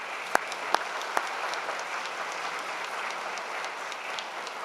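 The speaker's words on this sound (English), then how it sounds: "Let's give a round of applause." Steady, dense applause from an audience at a MacEwan University fall convocation ceremony, honouring the university big band, with a few louder claps standing out at the start.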